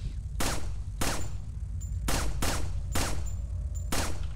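Repeated gunshots in the video game Resident Evil 4, five or six loud sharp blasts spaced roughly half a second apart over steady low background rumble.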